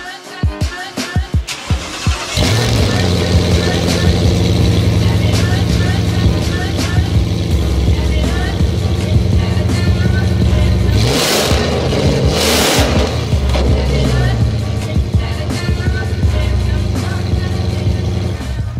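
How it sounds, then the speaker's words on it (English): A Ford Shelby Speedster's V8 engine starts and settles into a loud, rumbling idle close by, with sharp revs blipping up and falling back midway through. "Let's have a listen to what this V8 sounds like."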